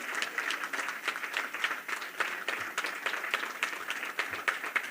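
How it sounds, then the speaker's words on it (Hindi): Applause from a political gathering audience welcoming a state party president onto the stage, a steady wash of clapping from a large crowd, moderately loud and sustained throughout. "एक बार जोरदार तालियों के साथ राठौड़ जी का स्वागत और अभिनंदन करिए।"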